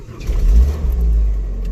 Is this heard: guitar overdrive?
no